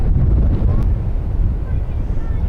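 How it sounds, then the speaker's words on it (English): Strong west wind gusting across an outdoor high school softball field, a loud, continuous low rumble of wind buffeting the microphone with no breaks. "Right now it's as windy as it has been."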